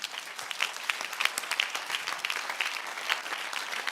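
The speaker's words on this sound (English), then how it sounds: "It's a good place to clap for Jesus." A church congregation claps together for Jesus in a steady, dense burst of applause, filling the room at moderate volume with no talking.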